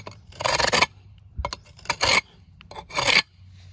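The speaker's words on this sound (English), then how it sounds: "I'm using the end of the chisel. Just gonna score a cut line right here." Metal chisel end scoring a cut line across a stone wall topper: four separate rasping scrapes, each under a second, with short pauses between them, close and fairly loud, no voices.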